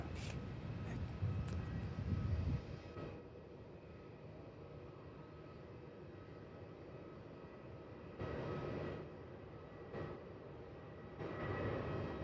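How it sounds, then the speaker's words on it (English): Boeing 777 on runway 16 at Melbourne Airport, a distant steady jet engine roar that swells and fades in broad surges, heard alone without talk. "Just getting ready for that 777 to take off on 16"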